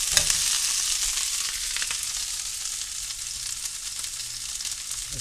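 Steak sears in a pan beside caramelized red onions, giving off a loud, continuous close-up sizzle that holds steady throughout with no voices.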